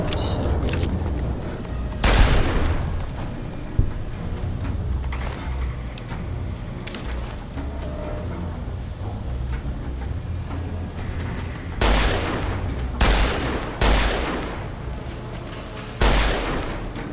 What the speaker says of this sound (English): Bro, this gun is so good.